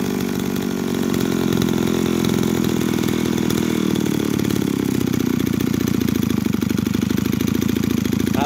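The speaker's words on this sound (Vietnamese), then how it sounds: "À, mình đã nghe tiếng máy nó còn từng tiếng thôi." Shindaiwa S25 brush cutter engine runs steadily up close, a loud buzzing two-stroke drone that settles into a choppier, pulsing idle toward the end.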